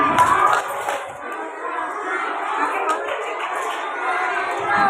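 Children at a school Isra Mi'raj event clap along in the Rukun Islam clap chant, a busy mix of rhythmic claps and chanting voices in a crowded room, with chatter throughout.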